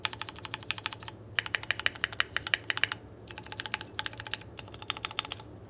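Stabilized keys on a Keychron Q2 keyboard with stock stabilizers are tapped in quick rhythmic bursts. The sharp, close clacks come in several runs separated by short pauses.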